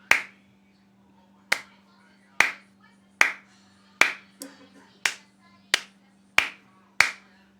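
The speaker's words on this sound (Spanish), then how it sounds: "Aplaudimos otra vez, prende." Ten sharp hand claps at a sound-activated switch, spaced roughly a second apart, each a crisp transient decaying quickly, over a steady low electrical hum in a quiet room.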